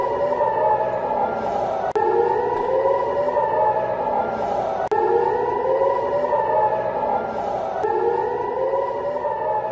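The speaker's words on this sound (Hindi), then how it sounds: "एकर और हाइफा में सायरन बजे।" Civil defense air raid sirens wail across Acre and Haifa, Israel, during a rocket attack alert, with long rising and falling tones that repeat continuously and loudly, overlapping with no talking.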